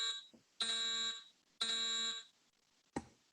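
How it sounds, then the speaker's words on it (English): A lobby fire alarm sounds in two steady, piercing electronic blasts of about half a second each, separated by brief gaps, with a short third burst starting at the end. "He let me play the fire alarm, this one in the lobby."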